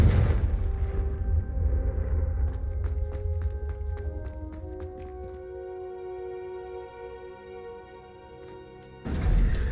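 Confringo blasting spell in Hogwarts Legacy, heard as a dense run of sharp impacts and crackling bursts over a steady low rumble, followed by a ringing tonal drone and a sudden loud burst at the end.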